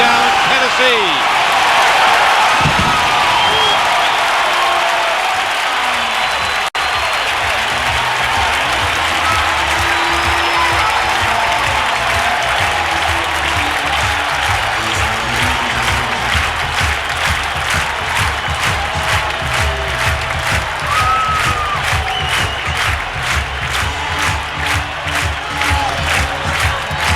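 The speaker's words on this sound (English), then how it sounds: "Up and cheering again in Nashville." A stadium crowd in Nashville cheers and applauds after a Tennessee touchdown at a 1999 Cincinnati at Tennessee football game, a loud, dense roar that holds steady for the whole stretch with scattered claps and shouts.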